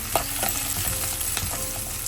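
Onions and curry leaves frying in hot oil for a lentil and dry chilli sambar, a steady close sizzle with occasional stirring scrapes running through the whole stretch, no talk.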